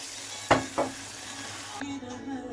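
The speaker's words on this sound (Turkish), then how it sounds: "Arkadaşlar suyunu katıyorum pilavına." Water poured into a pan of sizzling rice pilaf brings two sharp hissing bursts of steam, then a steadier crackling sizzle that settles as the liquid spreads.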